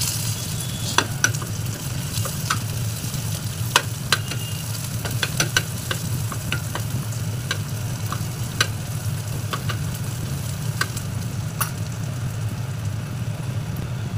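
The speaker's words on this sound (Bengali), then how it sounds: "এই দেখুন কড়াইটা গরম হয়ে গেছে, আমি এর মধ্যে একটু রসুন কুচি দিয়ে দিব আর একটু পেঁয়াজ দিয়ে দিব।" Chopped garlic and onion fry in a hot wok with a continuous loud sizzle, punctuated by sharp scraping and clinking of a spatula stirring against the metal, with no voices.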